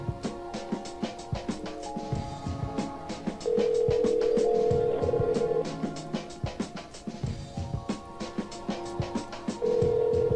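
A phone line ringing while calling Nick, repeated electronic tones in a steady on-off pattern over busy background clatter and music-like sounds, no talking.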